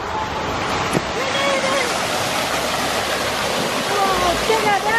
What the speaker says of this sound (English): check out that waterfall!